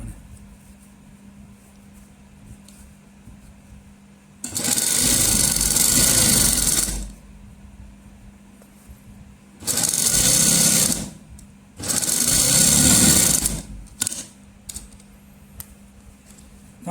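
A sewing machine stitches a salwar cuff with buckram in three loud, close bursts of rapid whirring, the first about two and a half seconds long and the later two shorter, with quiet pauses and small handling clicks in between.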